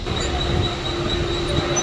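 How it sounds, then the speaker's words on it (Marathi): Inside a crowded commuter train on the move, with a steady low rumble and rattle, a faint high whine running throughout, and no clear talk standing out. "तर आता आम्ही ट्रेननी चाललो आहे"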